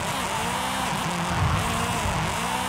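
A car in Forza Horizon, Brian's Eclipse, revs and drifts with wavering engine tones and tire noise, close and loud over continuous racing-game ambience.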